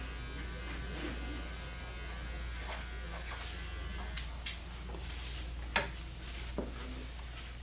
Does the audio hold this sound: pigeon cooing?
no